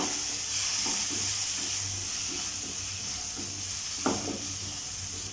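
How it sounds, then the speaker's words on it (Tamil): Chopped capsicum sautéing for capsicum rice, sizzling and hissing steadily in a pan with soft stirring scrapes and one sharper clack near the end, close and continuous with no voices. "ஸோ கொடமிளகாய் இந்தளவுக்கு வதங்கினா போதும்"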